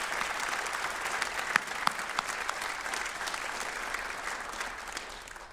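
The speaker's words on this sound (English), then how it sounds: "Let's give them a round of applause." A crowd at a high school awards night claps in a sustained, even round of applause lasting several seconds, with a few sharper individual claps popping out before it tapers off slightly at the end.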